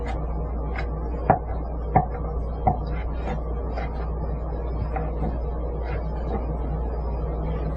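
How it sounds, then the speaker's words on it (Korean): Knife strokes on a cutting board while julienning cleaned stone-ear mushrooms, a few distinct taps spaced about a second apart, moderately faint against a steady low background hum. "석이버섯은 깨끗하게 손질하여서 채 썰고"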